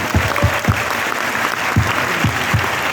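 A crowd at a corporate anniversary event gives loud, dense applause for the management team, continuous clapping with a few stronger low thumps standing out near the microphone.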